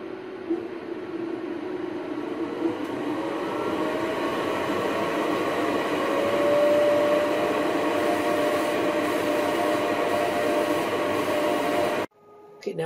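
A GweikeCloud laser engraver runs an engrave job, giving a steady, loud whirring hum with a faint tone that slowly rises in pitch, then cuts off abruptly near the end. No one speaks.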